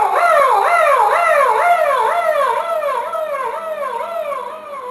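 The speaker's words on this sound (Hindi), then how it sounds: "भुतहा एरिया है, कुत्ते रो रहे हैं, हवा चल रही है" Several dogs howl together in a long, wavering chorus, loud and close, with rising and falling cries repeating steadily and easing off slightly toward the end, used as a haunted-area sound effect.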